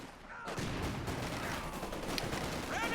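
Anti-tank rifle fire and other gunfire from a Company of Heroes 2 battle, dense battlefield noise with overlapping shots and blasts rolling steadily through the clip at a loud, constant level.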